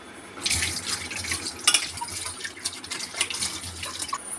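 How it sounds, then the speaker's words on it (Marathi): A cleaned pot lid rinsed under a running kitchen tap, steady splashing water with louder surges as the lid moves through the stream, close and continuous with no talking. "मी पितांबरीने घासून झालं तर धुवून घेते मी याला"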